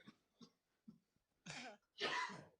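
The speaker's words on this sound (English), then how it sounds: "These guys would say that was the quietest cough they've ever heard." A few soft coughs and throat-clearing sounds, close by and quiet, ending with two stronger, harsher coughs.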